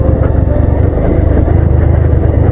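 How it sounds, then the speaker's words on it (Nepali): A motorcycle engine labours along a muddy, landslide-damaged road, a loud, close, continuous low drone with a rough pulsing throb. "एकदम बाइक पनि कराइरहेको छ"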